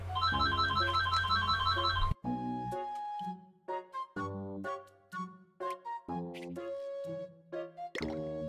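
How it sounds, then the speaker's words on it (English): A phone ringtone plays a bright melodic tone sequence, starting loud with a dense chime and continuing in clear repeated musical phrases with short gaps, close and alone without speech. "I muted my mic briefly while the phone was ringing."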